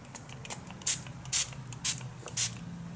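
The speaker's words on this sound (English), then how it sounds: "Okay, that sprays quite a lot at a time." A makeup setting spray with lemongrass oil is pumped in four short, sharp hissing bursts at a steady rhythm, close and fairly loud, with no talking.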